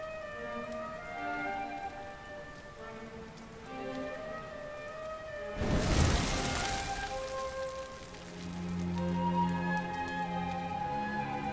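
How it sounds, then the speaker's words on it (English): Rain from the video game Dragon Quest XI S falls as a soft, steady patter under sustained musical tones, with a brief louder rushing burst partway through. "Looks like the rain's dying down."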